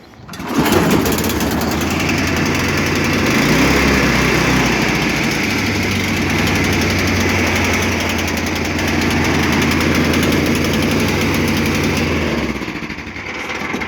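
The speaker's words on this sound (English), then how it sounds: "All right, let's start the engine." A Tecumseh HM80 8 hp engine on a Snapper 826 runs loud and close, a steady high-revving small-engine drone that surges slightly in pitch, with no talking.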